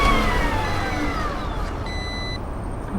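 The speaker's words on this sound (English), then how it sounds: "Something's beeping at me." Electronic alert beeping aboard a small homemade mini Porsche GT3RS as it rolls along, a short run of steady high tones heard over the low hum of the moving vehicle.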